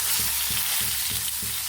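Chilies dropping into hot oil and frying with a continuous close sizzle, punctuated by a few soft stirring knocks in the pan, no voices.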